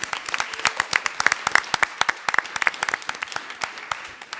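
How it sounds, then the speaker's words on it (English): An audience applauds at a board of trustees meeting, a moderate burst of many hands clapping steadily for a few seconds with a faint voice underneath. "Can we give them a big round of applause?"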